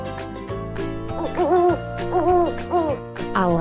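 An owl hoots in a series of wavering, drawn-out calls, loud and close, over a steady musical backing.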